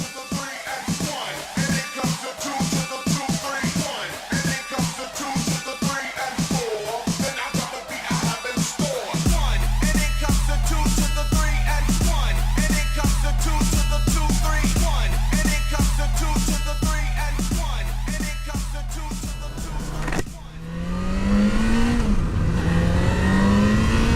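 Sport touring motorcycle with a stock exhaust accelerating hard on a test ride, engine note climbing steadily through gears with a strong, continuous drone, ending in a wind-buffeted rush at speed.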